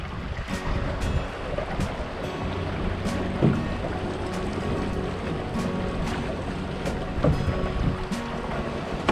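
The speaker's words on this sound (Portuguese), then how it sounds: "Preparar o jibe aqui com esse vento forte." A Flash 170 sailboat jibes in strong wind on a reservoir. Wind roars steadily with water rushing against the hull, and brief knocks and flaps rise now and then over the constant noise.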